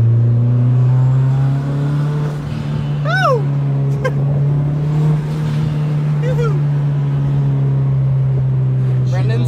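A voice mimics whooshing turbo boost and whistle noises in short rising bursts over a steady, droning car engine hum inside the cabin.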